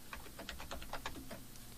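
A run of quick, light keystrokes on a computer keyboard as HTML list item tags are typed in, a steady close-up clatter with no talking.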